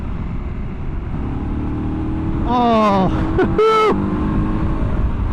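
A 2024 KTM 1290 Super Adventure R adventure motorcycle engine revs up in rising, climbing sweeps under steady road and wind roar, close and loud, with a brief spoken exclamation in the middle.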